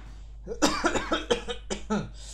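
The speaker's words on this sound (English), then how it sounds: "I'm having some coughs today for some reason." A run of several harsh coughs in quick succession, close and loud, with short gaps between bursts and no talking.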